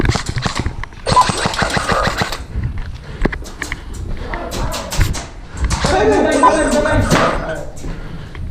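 Airsoft gunfire during a skirmish on a Vietnam-themed village field, with rapid bursts of snapping shots in clusters, close and loud, mixed with players shouting and talking.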